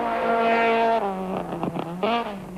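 Volkswagen Golf Synchro rally cars at the 1992 Algoa Rally, a loud engine tone held steady then dropping and shifting through gear changes as the cars pass, with no talk.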